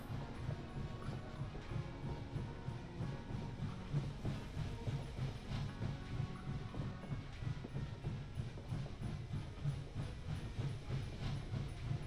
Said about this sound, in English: Maybe I should have put the train on a faster speed.